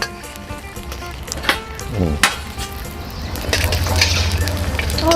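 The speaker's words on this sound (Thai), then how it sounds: "ทอดแบบนี้" Eggs deep-fry in used oil for son-in-law eggs, a steady sizzle that swells toward the end, broken by a few sharp clinks of a utensil against the pan.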